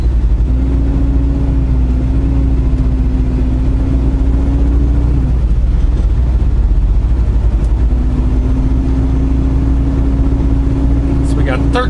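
A truck engine rumbles steadily as the driver pulls out to head out of town, a low continuous drone with a rising tonal whine that climbs through the first half, drops away, then returns, with faint voices underneath.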